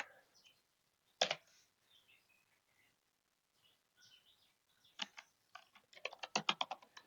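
Typing on a computer keyboard, quiet and close, starts as scattered single keystrokes and then turns into a quick run of clicks near the end.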